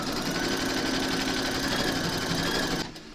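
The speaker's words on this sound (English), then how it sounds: "pop your hoop into your machine and stitch round number 1" An embroidery machine stitches the outline for a large skeleton applique, a loud steady high-speed whir that cuts off just before the end.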